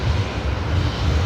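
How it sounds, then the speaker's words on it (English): A Qantas Boeing 737-800 landing on the left runway at Brisbane Airport at night makes a brief, loud, steady low engine rumble. "next arrival is going to be Qantas 668 coming in from Melbourne here on runway left. 737-800"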